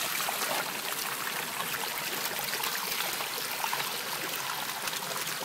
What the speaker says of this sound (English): water's coming out there.